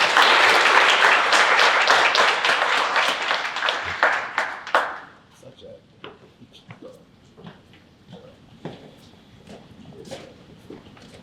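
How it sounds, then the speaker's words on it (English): Applause from an audience at an esports workshop, a dense burst of clapping that thins out and fades to scattered claps and room noise after about five seconds. "Please come up. Give a round of applause."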